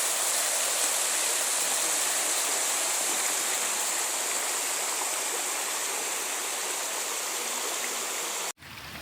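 Running water of the Red Burn stream at a small path ford on a Ben Nevis walk, a steady close rushing wash that holds evenly without pause, with no voices over it.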